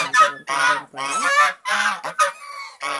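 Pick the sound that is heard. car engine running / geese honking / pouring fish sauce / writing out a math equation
geese honking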